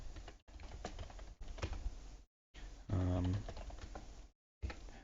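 Computer keyboard typing in short bursts separated by brief pauses, close and fairly quiet, with a low hum underneath.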